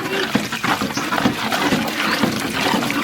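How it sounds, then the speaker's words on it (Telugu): Water is poured into a cooking pot of dal rasam with garlic, giving a splashy, gurgling flow that runs unevenly for about three seconds with no speech. "వాటర్ వేసుకుంటున్నా."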